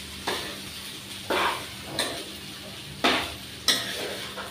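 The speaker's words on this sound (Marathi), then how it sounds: "दोन मिनटं असं परतायचं सगळं एक जीवन होईपर्यंत." Egg fried rice with crumbled omelette being stirred in a hot pan: about five scraping spatula strokes at a steady rhythm over a constant close sizzle, with no talking.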